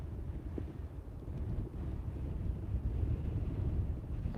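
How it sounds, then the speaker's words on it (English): Strong wind by the water buffets the microphone with a steady, low, rumbling roar that lasts the whole stretch, with no speech over it. "You could probably hear a little bit of wind coming through, but you can still hear me."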